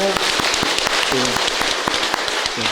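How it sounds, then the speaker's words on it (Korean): A church congregation applauding a newly registered member at Sunday worship, loud sustained clapping filling the room, with voices speaking and calling out over it. "우리 박수로 환영했습니다"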